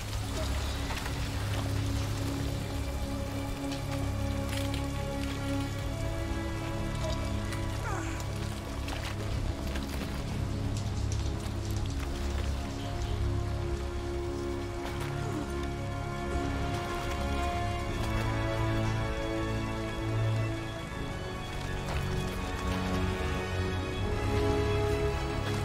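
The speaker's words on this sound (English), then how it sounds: "This is very heavy rain." Heavy rain pours steadily in Detroit: Become Human, a dense continuous hiss of drops on surfaces that stays loud throughout, layered over low tonal game music.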